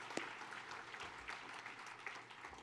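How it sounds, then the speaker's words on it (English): Applause from an awards ceremony audience, faint and distant, a soft continuous patter of clapping from a crowd in a hall. "let's give them another round of applause"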